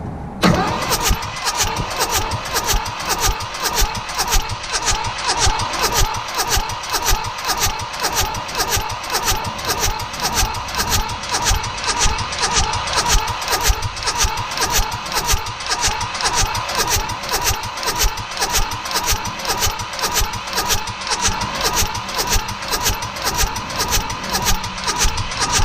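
A Mitsubishi D1800 diesel engine cranks after an injection pump overhaul, its starter chugging in a fast, even rhythm for a long unbroken stretch without catching, loud and close.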